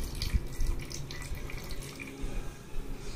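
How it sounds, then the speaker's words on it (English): Water poured into a flask holding a tablespoon of glucose for a kids' traffic light science experiment, a short, close, trickling splash with uneven gurgles and no talk. "Now let's add 50 ml of water in the flask."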